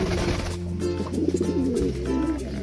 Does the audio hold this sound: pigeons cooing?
yes